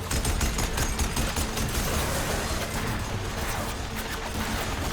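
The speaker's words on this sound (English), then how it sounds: "Pick up that weapon and start firing!" Rapid weapon fire in Horizon Forbidden West, a dense stream of overlapping shots and impacts that stays loud and steady throughout without a break.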